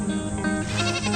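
A male goat, an older buck on a farm, gives a loud, close, wavering bleat that lasts about a second.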